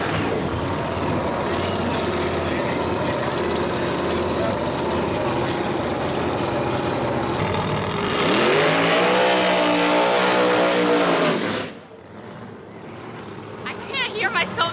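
A roughly 4,000 horsepower screw-blown Hemi outlaw pro mod drag car engine roars loud and close, surging to a harsh rising rev before cutting off, with voices talking under the noise.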